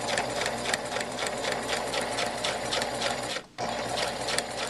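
Sewing machine running steadily while stitching a half-inch seam through fabric, a close, continuous rapid needle clatter with one brief pause near the end before resuming.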